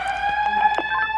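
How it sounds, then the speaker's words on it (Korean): A fire alarm siren wails steadily with tonal, warbling harmonics after a preaction valve is manually activated from the control panel during a PORV-type preaction valve operation test in a building fire protection system. "동작 확인. 사이렌 연동 정지."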